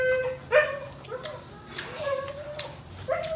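A dog in a home kitchen gives several short yips and whining barks, fairly faint and spread across the moment, over low background noise and soft household sounds.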